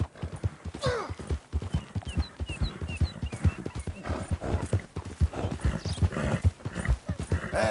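Horse hooves clip-clop at a steady pace in Red Dead Redemption 2, with a whinny breaking through amid ongoing character dialogue.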